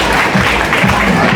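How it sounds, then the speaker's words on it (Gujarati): An audience at a school prize-giving ceremony for Class 8 students claps steadily: a dense, even burst of applause, close and loud, with no break. "એકવાર જોરદાર તાળીઓથી વધાવી લઈએ"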